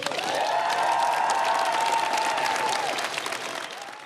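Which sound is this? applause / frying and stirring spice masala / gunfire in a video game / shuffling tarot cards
applause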